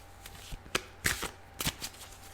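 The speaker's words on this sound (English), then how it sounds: "it's a bit large to shuffle, so I have to shuffle sort of quite slowly" A large deck of oracle cards is shuffled slowly, giving a few soft, separate riffling flicks and thumps close by with quiet pauses between them.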